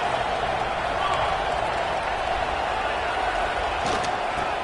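A dense stadium crowd roars steadily at an Ole Miss versus Florida college football game ahead of a big third down, a broad sustained wash of cheering with a commentator talking over it.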